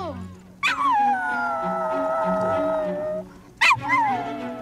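A dog in the 1985 film Return to Oz howls and whimpers in long, wavering, sliding cries. Two sharp bursts break in, one near the start and one near the end, over a film soundtrack.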